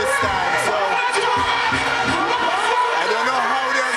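Large crowd at Reggae Sumfest 2019 cheering and shouting, a dense continuous roar with someone talking over it.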